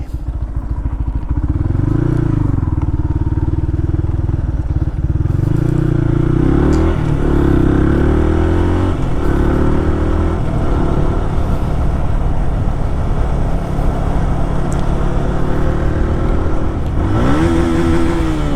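Yamaha R15 V2 motorcycle fitted with an R1M body kit, its engine running loud and close, a steady throaty drone with rising and falling revs throughout and a sharper rev near the end.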